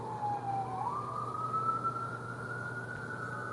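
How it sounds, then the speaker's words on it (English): A distant siren wails steadily, its pitch rising once and then holding a long tone over low traffic rumble. "There's a lot of sounds like fire trucks. Lots of sirens."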